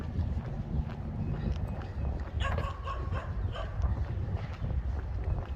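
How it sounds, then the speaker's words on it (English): A dog near a road gives short scattered barks and yips amid rustling and footsteps, moderately close but fairly faint, under outdoor background noise with no talk. "I don't mind if dogs chase me."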